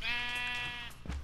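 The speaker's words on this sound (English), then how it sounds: "Here, sheep." A single drawn-out sheep bleat from the video game Minecraft, loud and close with a wavering tone, ending abruptly with a short low thump.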